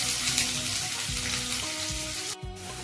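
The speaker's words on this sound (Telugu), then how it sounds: "కళాయిలో ఫ్రై అవుతున్నాయండి ముక్కలు" Paneer pieces frying in oil in a kadai for paneer curry, a steady close sizzle and crackle with a brief dip near the end.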